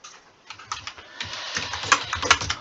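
Someone types on a computer keyboard, a quick uneven run of light clicky keystrokes, close and alone, with a few sharper taps near the end.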